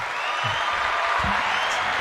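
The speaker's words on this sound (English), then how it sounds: "another round of applause" An audience applauds at a Friday show, a steady moderate wash of clapping with a few low thumps and murmurs underneath.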